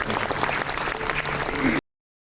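A crowd at the opening ceremony of a national yoga competition in an Osan gymnasium applauds steadily, a dense wash of many hands clapping at an even level for under two seconds before cutting off abruptly.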